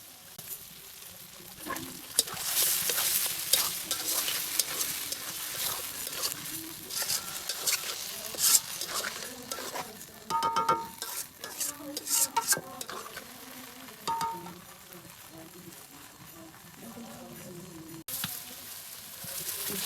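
Shrimp stir-fried in a cooked tomato spice masala for prawn pulao, heard as a soft sizzle with repeated scraping stirs and light pan clatter at moderate distance, with a faint voice now and then.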